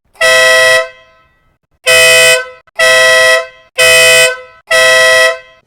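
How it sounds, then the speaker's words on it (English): A Split Sound Bomb car horn is tested in five very loud, blaring blasts of roughly half a second each, separated by short gaps of silence. "Right, so let's turn this on. Let's test this horn out."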